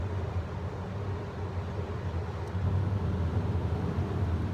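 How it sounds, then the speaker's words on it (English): Radiator cooling fans whir steadily on an idling engine in 5-degree cold, a broad even rush with low rumble that swells slightly louder partway through as a second fan kicks in. "The one fan at idle is pretty much ramped right up, and the secondary fan has just kicked in by the sounds of it"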